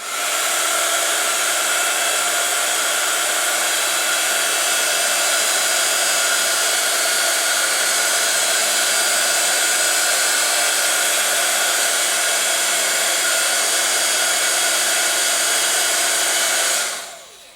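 Electric heat tool melting embossing powder on a snowflake card, a loud, steady blowing whir that runs unbroken for about seventeen seconds before cutting off abruptly, with no talking.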